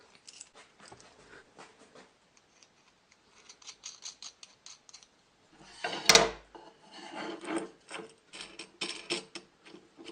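A screw is twisted by hand into a tight-fitting wooden block for a trammel points compass: quiet, intermittent creaking and rasping bursts of wood friction, with one louder scrape midway.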